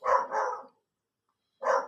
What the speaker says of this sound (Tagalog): tumahol na guys ang aso sa kapitbahay.